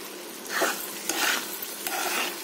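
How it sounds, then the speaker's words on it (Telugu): Bitter gourd karam curry frying in oil while a spoon stirs it: crackling sizzle with about three distinct scraping stirring strokes, close and continuous. "గట్టి పడేదాకా మనం తిప్పుకుంటూ ఉండాలి"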